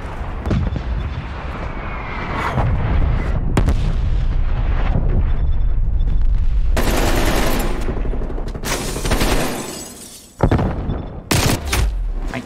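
Artillery strike explosions thunder through a Call of Duty Black Ops Cold War multiplayer match, a dense run of loud, close booms and crackling blasts rolling continuously for several seconds with brief gaps.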